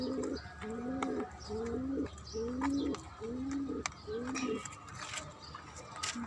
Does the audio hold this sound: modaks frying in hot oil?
no